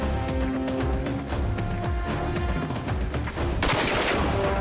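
Gunfire in the video game Rage, a dense run of rapid shots over a steady loud game soundtrack, ending in a burst of noisy blasts.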